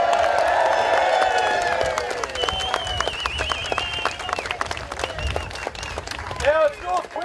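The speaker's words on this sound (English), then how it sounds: "One more round of applause." A crowd at a March for Australia rally in Townsville applauds and cheers, with a swell of clapping and whoops under someone speaking loudly, easing slightly as the clip goes on.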